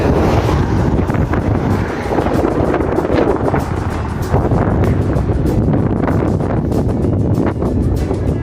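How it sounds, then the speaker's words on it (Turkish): Loud, constant strong wind buffeting the microphone on a bicycle tour road toward Elmalı, Turkey, a roaring rumble with gusty crackles throughout, no talking. "Acayip bir rüzgar var."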